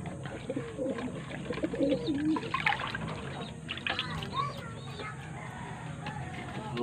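Racing pigeons coo and flutter nearby in a busy, continuous flock at a loft, with faint talking and splashing water in the background.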